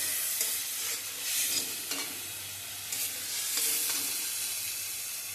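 Potatoes with ground spice paste are sautéed in a pan, giving a soft continuous sizzle with periodic scraping stirs, fairly quiet and close, without talk.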